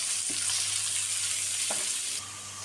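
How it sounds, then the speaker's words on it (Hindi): Steady sizzling of onions frying in hot oil for keema samosa filling, with a couple of soft scraping stirs; the sizzle drops slightly near the end. "ऑयल गर्म हो चुका है, अब मैं इसमें प्याज डालूँगी"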